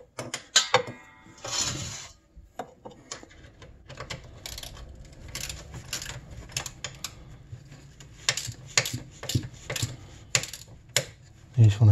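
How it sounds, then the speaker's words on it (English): Ratcheting wrench on an Arctic Cat ZR 600 EFI snowmobile, giving quick bursts of close clicking and mechanical rattles with short pauses between strokes. "Ratcheting wrench."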